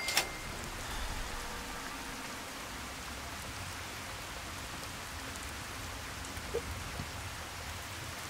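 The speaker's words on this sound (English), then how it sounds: "Finally, the rain stopped." Steady rainfall in the video game Fallout, an even wash of rain hiss continuing unbroken, with a faint tap or two.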